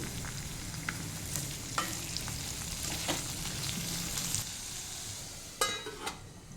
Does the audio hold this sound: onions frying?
yes